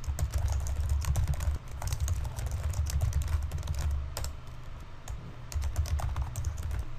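Rapid keystrokes clatter steadily on a computer keyboard, close and continuous, over a low humming background.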